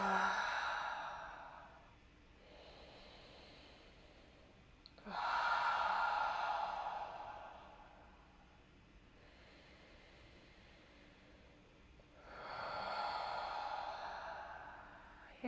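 Three long, audible breaths during a yoga breathing exercise, each a soft, breathy exhale lasting a few seconds and separated by quiet pauses, close and alone.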